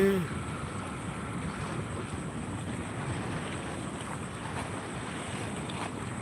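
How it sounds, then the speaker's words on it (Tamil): Steady sea breeze blowing at the seashore near a fishing spot, a continuous broadband rush of wind buffeting the microphone for the whole stretch, with no clear voices over it. "கடலோரம் வாங்கிய காத்து"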